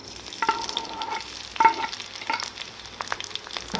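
Green chilies drop into hot oil for sabudana khichdi, giving a moderate crackling sizzle with scattered pops and clinks of a utensil, close and without speech.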